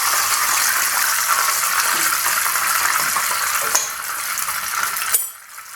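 Fish fries in plenty of hot oil, a loud steady close crackling sizzle with a few stirring knocks, cutting off sharply near the end.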